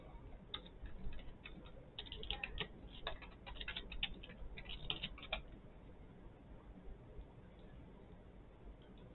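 Password keys tapped on a computer keyboard while updating the BIOS of a Dell PowerEdge R710 server: a quiet burst of scattered clicks for about five seconds over steady fan hum, then only the hum.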